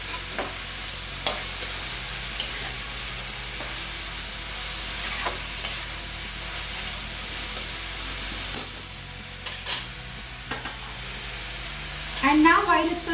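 Vegetables for veg fried rice being stirred in a hot pan, a steady sizzle with scraping stirs and occasional clinks, close and continuous throughout.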